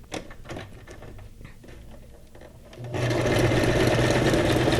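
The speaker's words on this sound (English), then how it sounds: "I think I got the bulk of the sewing done though" A sewing machine stitches paper junk journal ephemera pieces, starting with scattered clicks and handling noise, then running steadily and loudly from about three seconds to the end as a close, continuous mechanical whir.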